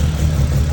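A Toyota AE71 Corolla hardtop's engine idles with intake cams advanced and exhaust retarded, a close, loud, steady low rumble for a brief moment with no talk.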